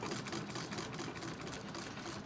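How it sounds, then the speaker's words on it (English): A Singer 66K treadle sewing machine stitching steadily, a faint, even mechanical whir with a rapid rhythmic clatter, heard alone. "So I'm sewing this using my Singer 66K, which I recently acquired early of January actually."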